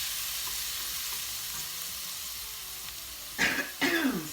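Garlic stirred and fried in a pan for chicken parmesan, making a soft, steady sizzle with faint stirring, followed near the end by two loud coughs.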